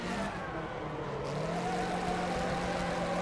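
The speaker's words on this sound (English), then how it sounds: "It's a station wagon that will just drift all day." Hammerhead station wagon in the racing game Wreckfest, drifting: a steady, droning engine note that holds and climbs slightly, with tyre and road noise underneath and no talk.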